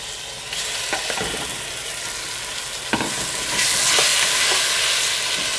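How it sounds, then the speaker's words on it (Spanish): Chicken hits a pan with just a splash of oil and breaks into a loud, close sizzle that swells stronger after a few seconds, punctuated by sharp pops and clinks from the pan, with no talking. "Nos vamos al siguiente procedimiento, que es a freír nuestro pollo."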